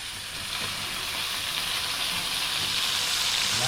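Squid frying in hot oil gives a steady, dense sizzle and crackle close up, broad and constant for the whole stretch with no one talking.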